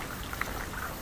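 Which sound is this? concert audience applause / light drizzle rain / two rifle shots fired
light drizzle rain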